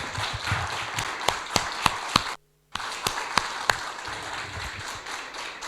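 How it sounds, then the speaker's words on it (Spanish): A church congregation claps in a steady, fairly quiet rhythm of distinct hand claps, briefly cut by a short silent gap before the clapping resumes. "Yo le daría un aplauso al Señor"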